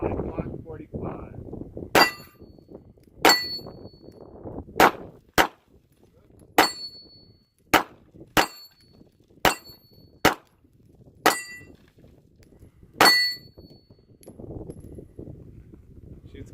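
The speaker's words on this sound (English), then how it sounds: "First ever shot with my Glock 45." A Glock 45 pistol fires about ten sharp, loud single shots at irregular intervals of a second or so, with a metallic ring after some, while wind noise rumbles before and after the string.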